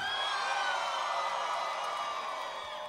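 A large outdoor festival crowd at the Vans Warped Tour 15th anniversary show at the Gorge cheers and whoops in a sustained, fairly distant roar that fades slightly toward the end.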